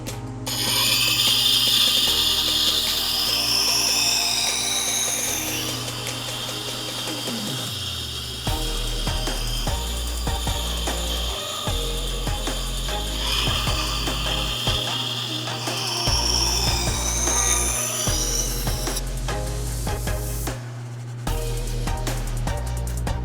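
A slowly turning powered sharpening stone grinding a blade, continuous whirring and scraping with shifting pitch, broken by brief clicks and knocks, loud and close throughout.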